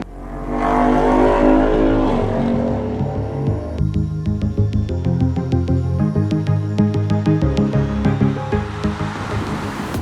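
A Pulsar NS motorcycle rides along a flyover on the Kolkata bypass. The engine note climbs, then holds a steady hum. Loud wind buffets the microphone close up throughout.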